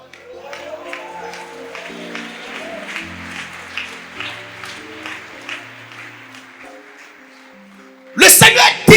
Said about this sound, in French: applaudissement du peuple.